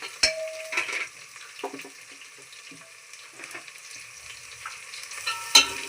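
Chopped carrots for veg pulao frying in a pan and being stirred, with soft sizzling and a few sharp utensil scrapes and clinks. It is near and moderately quiet, and nobody speaks.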